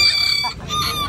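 Chickens clucking and crowing close by at a bird market in Bocaue, high thin calls overlapping briefly with a faint background murmur.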